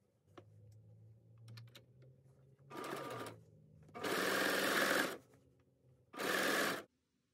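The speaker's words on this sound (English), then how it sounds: "I'm going to go ahead and attach my binding with my serger" A serger sews binding onto a quilt in three loud, fast mechanical bursts, the last two long and steady, separated by quieter pauses with faint handling clicks and a low hum.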